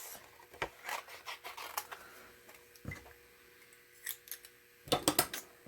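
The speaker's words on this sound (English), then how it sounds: "I'm going to cut him loose from here quick using my paper snips" Paper snips cutting small stamped ladybug shapes loose from paper while card crafting, giving a run of quiet, close crisp snips and rustles with a denser burst of cuts near the end.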